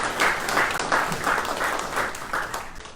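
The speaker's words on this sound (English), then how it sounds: "Can we have a round of applause for the young Nats?" A state party conference audience of the WA Nationals applauds the young Nats: a dense, sustained round of clapping from a large crowd, fairly loud and even throughout with no voices over it.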